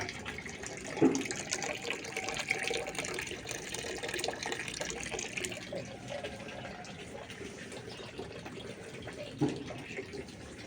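Water poured out at a house gate, a steady rushing splash with a couple of louder sloshes, fairly close, over a noisy background.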